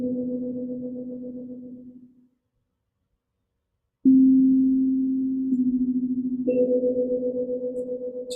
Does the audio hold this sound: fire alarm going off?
no